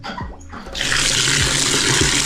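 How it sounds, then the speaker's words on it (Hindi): Water gushes steadily from a tap, a loud continuous splashing rush that starts abruptly and keeps pouring as a tub fills for washing a motorcycle riding jacket. "फटाफट इसका पानी भरते हैं"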